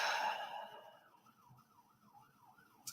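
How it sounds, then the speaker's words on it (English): An ambulance siren wails along a street right outside a home, its rising and falling tone swelling loud at first and then fading to a steady, distant warble. "here goes an ambulance"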